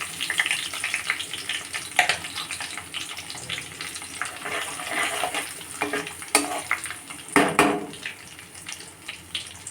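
Dry red chillies, nigella and cumin seeds sizzling in hot oil in a pan, a close, continuous crackling hiss with scattered sharper pops and stirring scrapes throughout.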